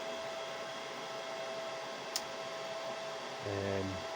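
Steady broadband whoosh of cooling fans running inside a retro Compaq rack server, close and constant, with one brief click partway through and a low hum rising near the end.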